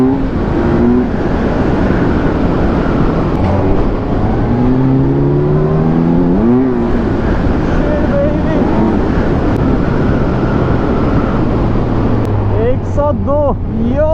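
A motorcycle ridden at high speed, with a steady roar of wind buffeting the microphone over the engine's rising and falling revs, loud and continuous throughout.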